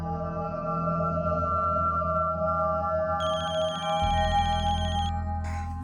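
A phone rings steadily indoors in a home at mealtime, a sustained electronic ringing tone that shifts and brightens partway through, with a low hum beneath and no talk.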